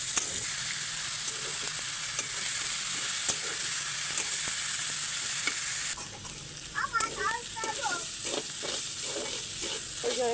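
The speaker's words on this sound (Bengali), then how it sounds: "এটা পেঁয়াজ রসুন দিয়ে ভাজি করবো। পেঁয়াজ রসুন একটু ভাজি নেবো।" Onion and garlic fry in a pan with a steady, close sizzle throughout, with scraping stir strokes that grow more distinct toward the end.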